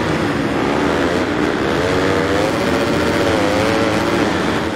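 Motorcycle engines in the video game Monster Energy Supercross 6, a dense, loud, continuous high-revving drone of several bikes racing together, steady throughout with no talk.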